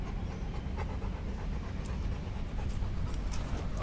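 A Rottweiler panting hard in hot weather, with a rapid, steady, breathy rhythm close by that runs throughout without talk.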